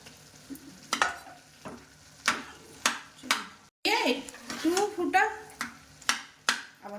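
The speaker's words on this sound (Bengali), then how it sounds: "আলুটাকে একদম ম্যাশ করে মিশিয়ে নিতে হবে" Boiled potato mashed and mixed with vegetables in a pan gives rhythmic scraping, pressing strokes about every half second, close by, with a voice talking briefly midway.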